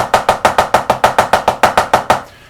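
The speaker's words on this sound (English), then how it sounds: "most people, as they speed up their paradiddles, the accent goes away and the soft notes get louder" A drum played in fast paradiddles in which the accents have faded, giving about fourteen evenly spaced, nearly equal strokes at close range that stop sharply with a short ring-out.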